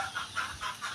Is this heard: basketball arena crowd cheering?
no